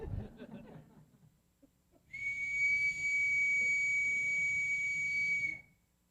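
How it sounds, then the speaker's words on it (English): A small emergency whistle gives one shrill, steady blast of about three seconds in a meeting room, loud and clear after a few quiet seconds of murmured talk. "The whistle we found will emit 90 decibels using normal breathing."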